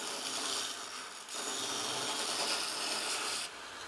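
A Vevor 30x1 belt sander with a coarse belt and 3/4 horsepower motor grinds stainless steel, giving a steady loud abrasive rasp with a brief dip in pressure partway through and a drop in intensity near the end, with no talking.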